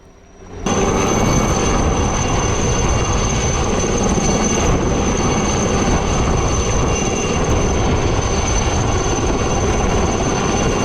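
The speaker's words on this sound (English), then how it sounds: "just before the heli arrived" A helicopter arrives at a mountaineering institute's search-and-rescue training site in Uttarkashi, its loud, steady roar starting abruptly after a brief quiet moment and holding at full strength until the end.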